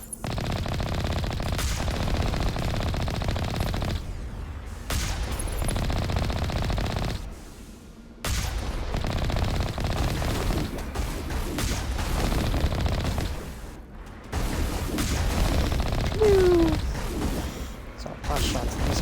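Rapid bursts of gunfire from a Mass Effect video game firefight, loud and dense through most of the scene with brief gaps, mixed with game effects and someone talking over it.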